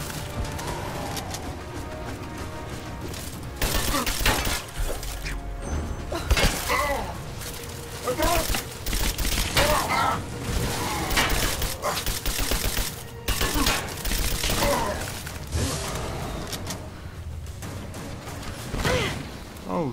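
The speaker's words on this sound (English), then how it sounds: "who's shooting at me?" Gunfire in the Rise of the Tomb Raider video game: dense bursts of rapid shots and impacts run through most of the stretch, loud and busy, with game sound layered underneath.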